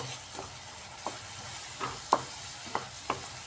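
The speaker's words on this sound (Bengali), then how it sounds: "এবার আমি মশলাটাকে ভালো করে মিক্সড করে নিচ্ছি" A spice mix of chilli powder and grated ginger is stirred in a pan for a rohu fish curry with cauliflower and potato. A faint, steady sizzle sits under a few sharp spoon scrapes, with no speech.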